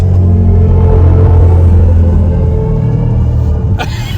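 Synthetic drive sound of a BMW i7 electric luxury car in expressive mode, a loud, deep, sustained electronic rumble heard from inside the cabin, easing off slightly toward the end.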